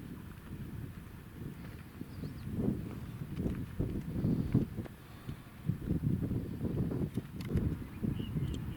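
Wind gusting at Les Baux de Provence in hot weather, with uneven rumbling buffets against the microphone that swell and fade, plus faint scattered knocks in the background.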